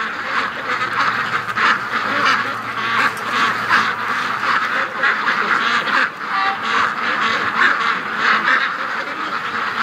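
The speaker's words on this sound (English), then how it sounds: "Just listen to those ducks," A flock of domestic ducks being raised outdoors quacks continuously and busily, many overlapping calls close by with a steady chorus throughout and no talking.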